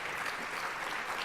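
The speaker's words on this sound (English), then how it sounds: "I really want to ask you all to just give them a clap of applause." A conference audience applauds steadily and loudly throughout, a dense wash of clapping from many hands with no break.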